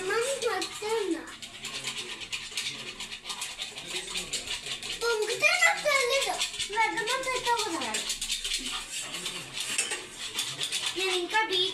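Coffee beaten with a spoon in a cup makes a brisk, continuous clatter of metal scraping and clinking against the cup, heard alongside a voice and other voices talking over it.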